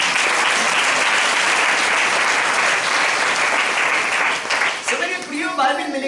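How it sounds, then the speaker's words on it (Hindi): A church congregation claps loudly for Jesus during a Hindi sermon. The applause is dense, sustained and enthusiastic, easing near the end as a voice begins speaking over it. "यीशु के लिए जोरदार ताली बजाएं"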